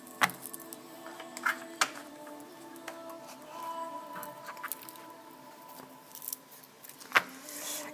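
A tarot card deck is being cut and handled, giving soft, scattered clicks and papery snaps with a few sharper taps over a quiet background.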